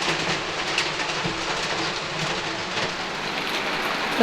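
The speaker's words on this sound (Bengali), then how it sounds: "দেখো কেমন বৃষ্টি পড়ছে" Steady rain falls outside a home kitchen, a continuous broadband patter that stays even and fairly loud throughout, with no talk over it.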